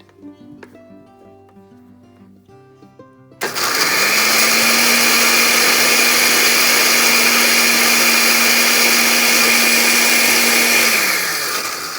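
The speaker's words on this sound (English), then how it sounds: "Transfer the red chilies to the blender jar and then grind it." A blender starts abruptly after soft music and grinds red chilies loudly and steadily for several seconds before beginning to wind down.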